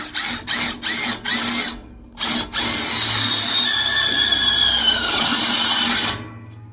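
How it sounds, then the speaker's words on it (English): A power drill drives a self-tapping screw into sheet metal while a deflector shield is fitted to a herd seeder: several short bursts of drill whine, then one sustained run with rising pitch as the screw bites and seats, close and loud. "Try to get a self-tapper through that hole."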